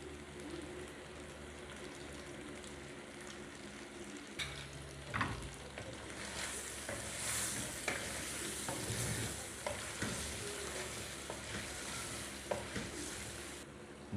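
Mutton cooking in ghee in a karahi, with yogurt being stirred in: a steady close sizzle and fry runs throughout, broken by scraping spoon strokes and clattering stirs, with no talking.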